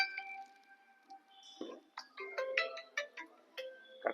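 A mobile phone ringtone plays, a melodic electronic tune of stepped tones and quick bright notes, fairly quiet and unaccompanied, with no speech over it.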